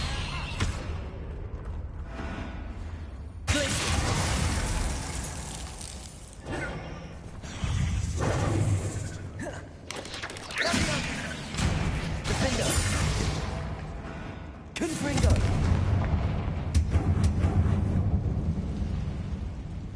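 Explosive spell blasts in Hogwarts Legacy, several heavy booming crashes with shattering debris spread over twenty seconds amid continuous rumbling combat noise.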